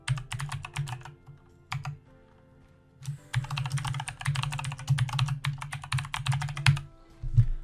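Username and password typed on a computer keyboard: close, busy bursts of key clicks with a short pause before a longer, steady run of typing, with no talk.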